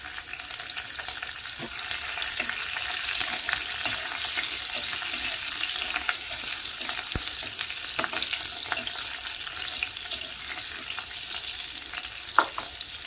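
Cumin seeds and chopped green chillies fry in hot white oil in a kadai, a steady close sizzle running throughout with scattered clicks and scrapes of stirring, ending in one sharper knock.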